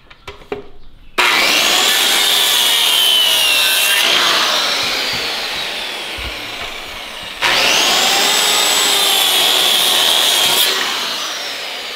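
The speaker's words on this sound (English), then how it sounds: "So I'm gonna cut it across the line, flip it, cut it again to get all the way through." Hand saw cutting through a 4x4 wooden post, loud rasping strokes running continuously, a brief pause, then a second long stretch of sawing.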